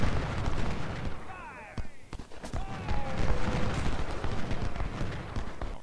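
Artillery firing in a Civil War strategy video game, repeated booming shots and impacts scattered across the scene, mid-distance, mixed with battlefield noise and faint whistling projectiles.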